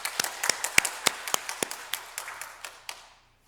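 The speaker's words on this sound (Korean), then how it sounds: "우리 찬양 단원들에게 우리 감사의 박수를 드리도록 하겠습니다" A church congregation applauds the choir after a Sunday afternoon service, a short burst of sparse, uneven claps that thin out and stop within a few seconds.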